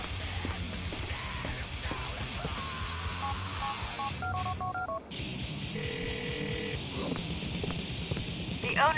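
Cell phone dialing tones in Grand Theft Auto IV: a quick run of short stepped electronic beeps, then a pause and a sustained higher synthetic tone, all over a low busy in-game background.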